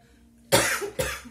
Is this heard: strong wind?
no